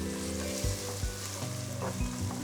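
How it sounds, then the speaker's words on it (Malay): Onions sizzle and sauté in virgin coconut oil for a fish head curry, a steady close frying hiss with soft periodic thumps of stirring and no talk. "kita kena tumis sampai bawang tu jadi golden brown ya."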